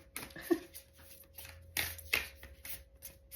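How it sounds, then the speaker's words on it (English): A thick Soul Coaching oracle card deck is shuffled by hand close up, with soft riffling and slapping bursts and a few sharper card snaps, fairly quiet with no talk. "I do find these ones hard to shuffle."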